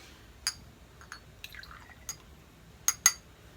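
Crown Royal whisky poured into a small measuring shot glass, a few sparse, soft trickles and drips with faint glassy clinks spaced irregularly over a quiet background.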